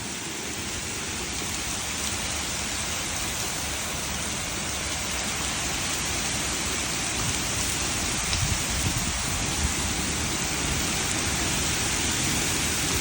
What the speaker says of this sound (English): the rains are kind of like sheets of rain. The wind's blowing so much.